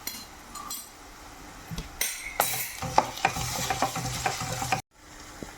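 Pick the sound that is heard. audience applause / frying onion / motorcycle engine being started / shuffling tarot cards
frying onion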